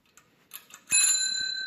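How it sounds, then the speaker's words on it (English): A few faint taps, then a single clear ding from the bell of a Shanghai Phoenix ZA-42 classic bicycle, bright and close, its metallic tone slowly decaying. "And then obviously it comes with a bell."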